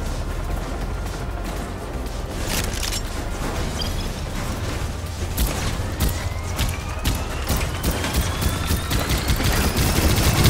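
SMG fire in the robot-battle game Robocraft: dense, rapid bursts of gunfire over a constant loud rumbling drone of machinery, with repeated sharp volleys across the whole stretch.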